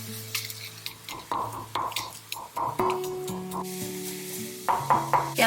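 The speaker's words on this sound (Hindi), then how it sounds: "घी को गरम कर लिया है। धनिया, जीरा, सौंफ," Coriander, cumin, fennel seeds and a small dried chili sizzle in hot ghee as a spoon stirs and scrapes the pan, with light clinks of metal cookware close by.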